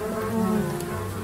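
Steady insect-like buzzing of bees in a video game drones throughout, loud and close, with a wavering hum and no voices.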